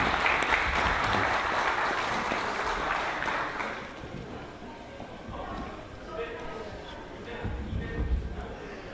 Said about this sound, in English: Give her a big hand round of applause.